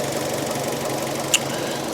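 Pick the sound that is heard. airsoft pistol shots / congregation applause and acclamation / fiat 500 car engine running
fiat 500 car engine running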